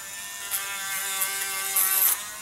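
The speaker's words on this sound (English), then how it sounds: "if you're using a Dremel tool. We're going to use it here on the high setting. This is a real low power Dremel." A low-power Dremel rotary tool on its high setting polishes a Glock trigger bar, giving a steady close whine with brief scratchy surges as the bit touches the metal.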